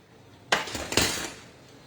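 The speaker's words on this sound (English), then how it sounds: "We'll just mix it and keep it aside." A spoon clinks sharply twice against a bowl while stirring egg replacer into hot water, then a softer scraping swirl trails off, close and alone.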